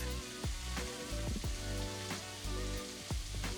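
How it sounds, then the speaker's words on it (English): Beef sears in a preheated, oiled Vermicular Musui-Kamado pot, giving a steady, quiet sizzle broken by soft popping spatters. "Sear the beef."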